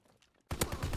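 Gunfire in the World War II shooter Call of Duty: WWII breaks in suddenly halfway through after near silence, a loud rapid burst of repeated shots that continues to the end.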